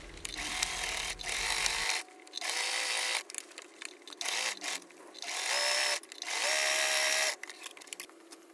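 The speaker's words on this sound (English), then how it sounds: "So right now we're just gonna sew up this sleeves" Sewing machine stitching the sleeves of a Baby Yoda costume, running in several separate bursts of a few seconds each with short pauses between, close and fairly loud with no talking.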